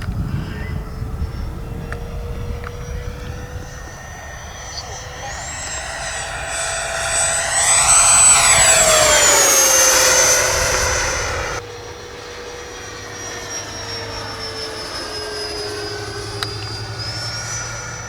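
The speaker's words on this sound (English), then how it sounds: "Do a run down the runway here for you, Mario." A 3D printed Boeing 727 model airplane making a pass down the runway, a high whining electric ducted-fan drone that rises in pitch, swells loud as it passes close, then drops and fades, with faint voices in the background.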